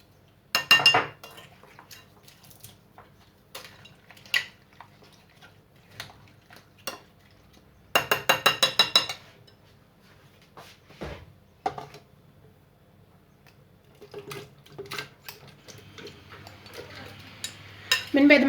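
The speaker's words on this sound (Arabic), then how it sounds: "غادي نمزج هاد العناصر هذه مزيان كما كتشوفوا" A utensil clinks and scrapes against a bowl in short bursts of stirring juice ingredients with sugar, separated by quiet pauses, close up.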